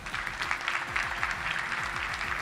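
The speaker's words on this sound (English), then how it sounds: "One more applause for our 2024 Ken Hatfield Sportsmanship Award honorees." A banquet crowd at a touchdown club event applauds the sportsmanship award honorees, with dense, steady clapping that carries the whole way through and a faint low hum beneath it.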